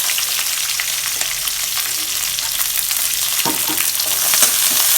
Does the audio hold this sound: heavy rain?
no